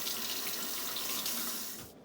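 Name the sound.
water from a faucet soaking corn in the husk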